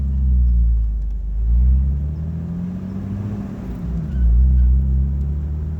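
Inside a Jeep Wrangler TJ fitted with a cheap muffler and running with the top and side window off, the engine gives a steady low rumble that swells twice as the driver revs through the gears.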